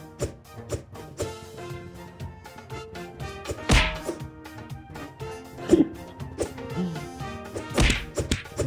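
Heavy wooden club thwacks land every few seconds over steady game music in the Amer Fighting open beta, each hit a sharp, loud blow with a short ringing tail.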